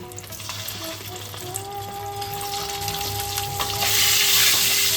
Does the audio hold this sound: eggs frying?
yes